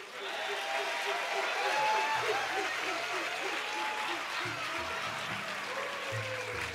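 Steady, dense applause from a concert audience at an outdoor zoo venue, continuous and fairly even throughout, with some faint crowd noise and a bit of speech underneath.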